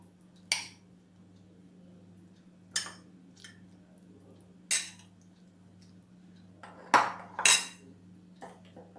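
A spoon drops mixed fruits into a falooda glass, making five separate, crisp clinks spaced a couple of seconds apart, with the last two close together, over a low steady hum.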